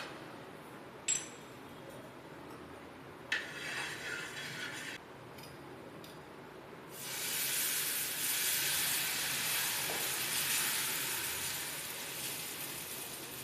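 Dosa batter hitting a hot pan, starting with a few faint clicks and short hiss bursts, then swelling into a loud, sustained sizzle that carries on steadily to the end, with no talking.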